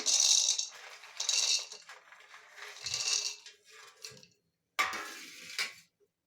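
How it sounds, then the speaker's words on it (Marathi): Peeled peanuts are tipped into a mixer jar in bursts, a dry rattling clatter of nuts hitting the jar, repeated several times with short pauses and a final brief pour. "आपल्याला एका मिक्सरच्या भांड्यामध्ये शेंगदाणे काढायचे आहेत सगळे"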